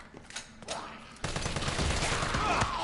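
AR rifle gunfire in Resident Evil 3, a sparse few shots early, then a dense sustained burst of rapid automatic fire in the second half, loud and close.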